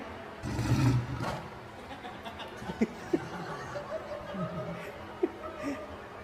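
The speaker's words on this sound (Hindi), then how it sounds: "ये तो बाघ बजा दिए आप।" A tiger roar sound effect played during a Ram Katha religious discourse: one deep, rough burst early on, followed by scattered audience laughter and soft murmurs in a large hall.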